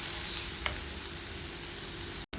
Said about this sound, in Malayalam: സവോള ഇവിടെ നന്നായി വഴന്നു വന്നിട്ടുണ്ട്.